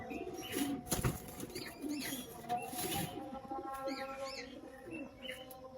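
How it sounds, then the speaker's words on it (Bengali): Pigeons in a loft coo softly and beat their wings in short bursts, with chirps and rustling close by throughout and no talking. "আমার যে চারটা কবুতর আছে এই চারটা কবুতরই দেখাই একটু"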